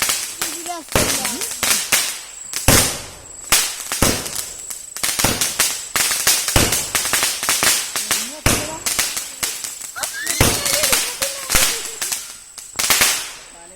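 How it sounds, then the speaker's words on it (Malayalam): A rapid string of sharp firecracker bangs bursting close by on Vishu festival night, many overlapping cracks in quick irregular succession with brief gaps, loud throughout. "ഒരുപാട് നേരം പടക്കം പൊട്ടിച്ചും പൂത്തിരി കത്തിച്ചും"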